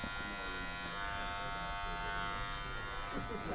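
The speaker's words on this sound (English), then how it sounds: "I'm sort of using the heel of the clipper, not overdoing it" Electric hair clippers trimming a beard give a steady, close buzz that runs without a break, with faint handling noise underneath.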